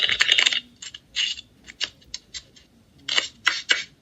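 Playing cards are shuffled for a magic trick at a family talent show, giving crisp riffling bursts and light clicks in several separate clusters, close and fairly loud with no talk.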